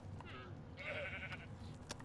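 A single sheep bleats once in the video game Minecraft, a short wavering call over a low background hum.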